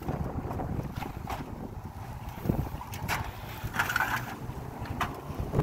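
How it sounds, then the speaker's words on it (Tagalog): Steady wind rushing and buffeting outdoors, with gusty swells and rumbling low noise throughout, no voices. "Gusto ko yung hangin."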